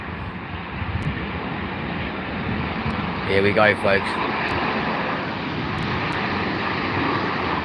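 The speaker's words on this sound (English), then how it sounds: "787-10 coming in from Jeddah" A Boeing 787-10 airliner in Saudi livery, arriving at London Heathrow from Jeddah, gives a steady broadband jet roar that holds for the whole stretch, with someone speaking briefly midway.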